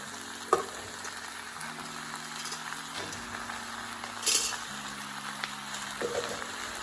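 Already-cooked noodles sizzle in a hot pan over a raised flame for Schezwan chicken noodles, with steady frying hiss and occasional scraping stirs and clinks, no talking.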